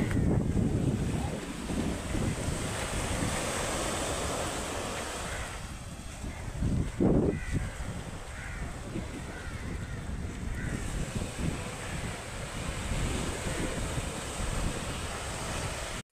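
Cool wind blowing at a beach in Pondicherry buffets the microphone over a continuous roar of ocean surf, steady throughout with a brief louder gust near the middle.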